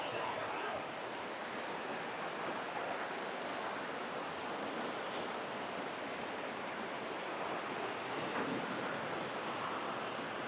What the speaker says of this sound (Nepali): झर्ना त्यहाँ माथि छ